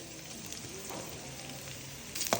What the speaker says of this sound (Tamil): சின்ன வெங்காய தாளிப்பு வடைங்க.